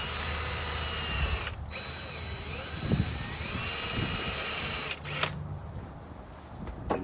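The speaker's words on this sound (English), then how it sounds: "So I just take a drill bit, like a 3/8 or something like that." A drill with a 3/8 bit bores through the middle of plastic rivets while removing the front fenders of a Jeep Wrangler JK, a continuous close high whine with brief dips and light knocks.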